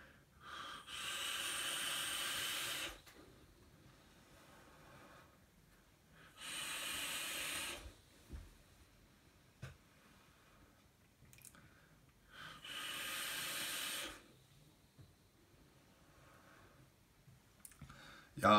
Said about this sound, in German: Ich dampfe das Ganze jetzt erstmal kurz.